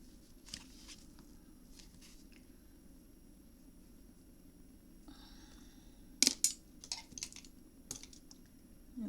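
Black 250 GSM cardstock being cut, a few quiet crisp snips and clicks clustered late, after a stretch of low room noise with soft handling sounds, no talking.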